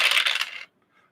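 Dice tumble down a small dice tower in a bright, short clattering rattle that lasts under a second before stopping, followed by a faint final tick.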